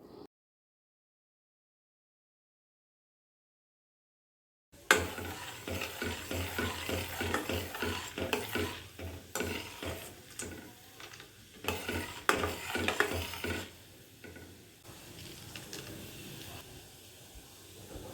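Mustard seeds, chana dal, dried red chilies and curry leaves fry in hot oil for a drumstick garlic pickle tempering, a steady close sizzle with crackling pops and stirring scrapes after several seconds of silence.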